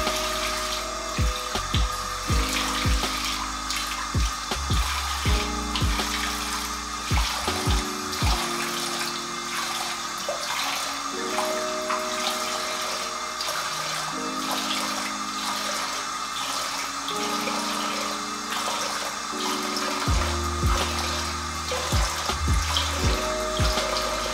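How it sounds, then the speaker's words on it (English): A bathroom tap runs steadily while cold water rinses a face during a night-time skincare routine. A continuous hiss of flowing water is interrupted by irregular splashes and low thumps, and tonal pipe hum shifts in pitch throughout. "I'm rinsing this with cold water, just so you know, the cold water is just closing up my pores."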